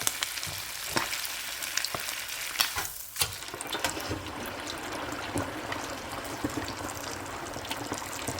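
Chinese-style chicken wings fry in hot oil with a dense, loud, continuous sizzle and crackle, a few sharper pops and stirring scrapes near the start, no talk over it.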